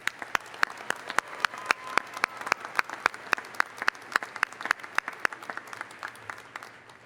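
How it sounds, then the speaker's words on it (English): Audience applause for graduates at a 2019 UW-Parkside spring commencement ceremony: sharp individual claps ring out over a steady wash of crowd clapping, fairly close and sustained for the whole stretch. "another round of applause for these very impressive graduates"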